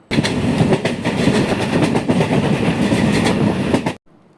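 The Jan Shatabdi Express runs on rails at speed, a loud, continuous roar with rhythmic clickety-clack of wheels over rail joints, heard up close for about four seconds before cutting off.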